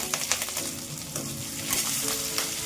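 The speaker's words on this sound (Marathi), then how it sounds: "यात आपल्याला ते तुपामध्ये छान परतून घ्यायचंय।" Garlic, green chilli and curry leaves sizzle in hot ghee with cashews and whole spices, a close, steady crackling fry with a few louder stirring scrapes and no talking.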